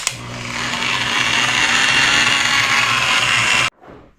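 Power polisher with a blue finer-cut pad buffing the plastic fuel tank of a 2003 Yamaha YZ450F, a steady loud whirring hum at reduced speed that runs evenly for several seconds, then cuts off abruptly, leaving a brief quiet tail.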